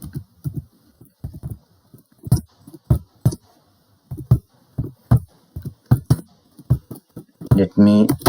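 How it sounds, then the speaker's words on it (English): Keys on a computer keyboard are tapped in an uneven run of crisp, close clicks, followed at the end by a brief burst of faster typing. "now you can type the text you want."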